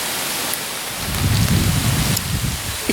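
Rain falling outdoors, a dense steady hiss close by with a brief low rumble in the middle, no voices.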